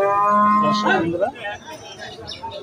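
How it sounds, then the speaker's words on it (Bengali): A Holstein Friesian bull at a cattle market gives one loud, close, drawn-out low moo that bends and fades, followed by quieter rustling. "হলস্টিন ফ্রিজিয়ান জাতের ষাঁড় গরু"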